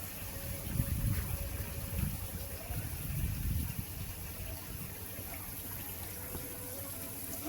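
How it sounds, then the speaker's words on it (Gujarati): Water pours continuously into a resort swimming pool from inlets on both sides, a steady broad rushing wash with a couple of louder gushing swells, heard alone without talk. "અહીંયા બે બાજુથી છે ને પાણી આવે છે, એટલે સ્ટેબલ પાણી નથી"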